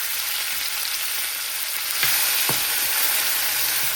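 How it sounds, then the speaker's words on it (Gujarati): Mustard seeds and cumin crackling in hot oil for a tempering, a bright continuous sizzle with a couple of sharp pops partway through, close and loud with no talking. "તેલ ગરમ થઈ જાય એટલે એમાં નાખીશું થોડીક રાઈ. રાઈ ફૂટે એટલે જીરું."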